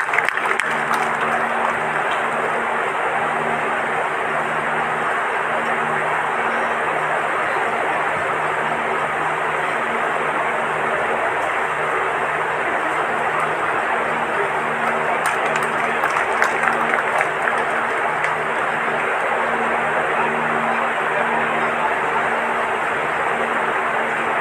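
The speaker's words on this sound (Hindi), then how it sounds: "तालियां बजा करके स्वागत कीजिए" An audience claps continuously and evenly throughout, a dense sustained wash of applause at the inauguration of a yoga and naturopathy centre, with a faint murmur beneath.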